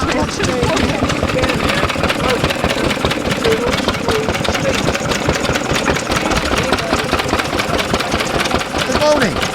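A single-cylinder stationary engine at a heritage transport show pops along at a steady idle, loud and close, with voices chattering in the background.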